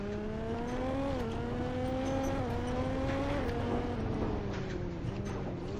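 Bugatti Chiron driving in a Roblox game, a steady, quiet engine drone whose pitch climbs and drops in small steps like gear changes, continuous and alone.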